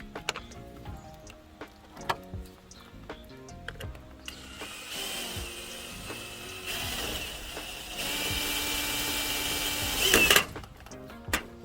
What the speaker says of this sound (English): Put my screw in.